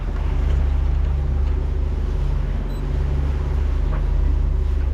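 The port engine of a cruising boat runs alone, heard as a steady, loud low drone with wind and water noise on the passage from the Bahamas back to the USA, and nobody speaks.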